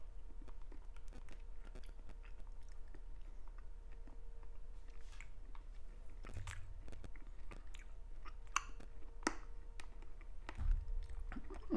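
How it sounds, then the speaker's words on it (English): Someone chewing a hard, crunchy mixed fruit-flavored snack close to the mic: steady, quiet crunching and crackling bites over about twelve seconds, with a couple of louder crunches near the end and no talking. "I might break a tooth crunching on these things."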